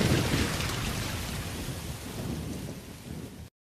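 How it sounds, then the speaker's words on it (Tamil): Heavy rain pours steadily while a deep roll of thunder rumbles loudest at the start and fades over a few seconds, close and full with no voices. "நீங்க காமராஜரை பத்தி பேசணும்னு மழையே பெய்யுதுண்ணே."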